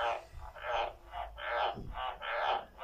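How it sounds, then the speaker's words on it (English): Frogs croak in a repeating series of raspy pulses, about five loud calls close by from a jar enclosure, over a low background rumble. "getting interrupted by the frogs"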